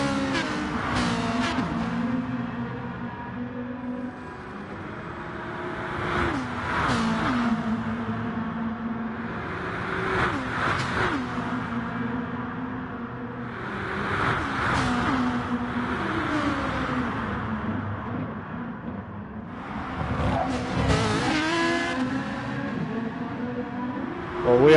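Race cars at Bathurst in a racing video game, engines repeatedly rising and falling as cars accelerate, shift and pass, loud and continuous with no talking.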